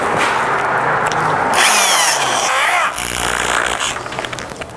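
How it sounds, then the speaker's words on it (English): Full-size drill bit whines and grinds through the wooden body of a dhol drum, loud and continuous, rising in pitch partway, then easing off into rougher chatter near the end. "you use the drill bit and you drill the hole inside the dhol"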